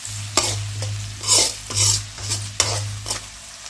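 Onion pieces frying in a pan for a spicy Andhra-style chicken fry, with a steady sizzle and a low hum underneath, punctuated by about half a dozen clear scrapes and clinks of a spatula against the pan.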